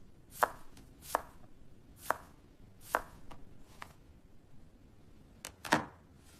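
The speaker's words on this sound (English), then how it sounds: "I julienne the carrot." A knife cutting carrot into thin strips on a board, six sharp, separate chopping knocks spaced about a second apart, close and alone in a quiet room.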